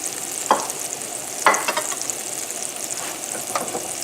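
Shrimp cooking in a hot pan for garlic linguine, a steady close sizzle with a few sharp scraping stirs near the start and end, no voices.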